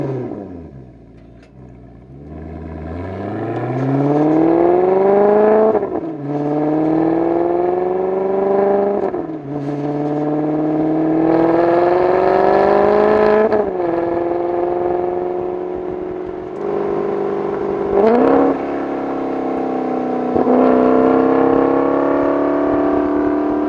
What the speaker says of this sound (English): took the car for a few kilometers of driving, just to try and get some examples of the sound in different phases of the driving, so like accelerating and steady state